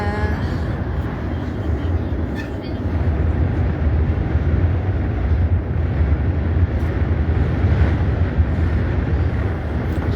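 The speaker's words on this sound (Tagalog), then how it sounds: "Medyo mahangin dito banda." Steady wind roaring and buffeting around a Ngong Ping 360 cable car cabin at Tung Chung, Hong Kong, a constant broadband rush that runs the whole time with people talking quietly over it.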